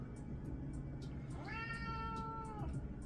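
A single drawn-out cat meow of about a second rises clearly over steady low background noise indoors, with no talking around it.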